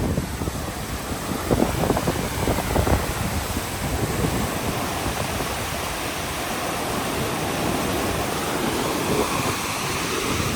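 Steady rushing water flows continuously, a dense broad hiss from a glacier-fed mountain stream close by in the Suru valley near Nun Kun, with no voices.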